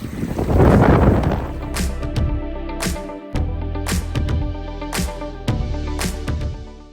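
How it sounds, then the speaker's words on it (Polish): Strong gusting wind on Scafell Pike in Cumbria roars across the microphone, with rough low buffeting that rises and falls and several sharp thumps along the way. "pojawił się bardzo silny wiatr, nie można było oddychać momentami"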